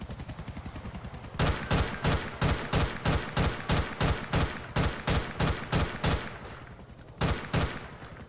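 Rapid bursts of automatic gunfire in GTA 4 with the LCPDFR police mod, a dense run of sharp evenly spaced shots after a quiet lead-in, a brief pause, then a final short volley, loud and close.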